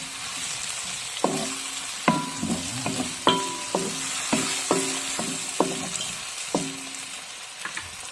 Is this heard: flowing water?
no